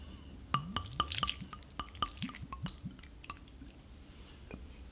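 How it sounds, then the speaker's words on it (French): Vinegar is poured onto pickled courgettes for escabèche, making a run of small, sharp liquid drips and wet splashes that cluster in the first half and then thin out to a few scattered drops. "À ceci, je vais rajouter du vinaigre."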